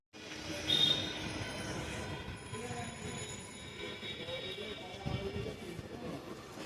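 A Kolkata suburban train rolls along with a steady, close rumble and rattle, faint high wheel squeal, and a few brief thumps, while the carriage noise runs continuously.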